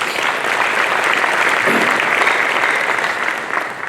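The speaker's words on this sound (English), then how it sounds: "Can you give yourselves a nice round of applause?" Steady applause from a full plenary audience at the Northern Cape Investment and Job Conference, a dense, even wash of many hands clapping that holds for several seconds before easing slightly at the end.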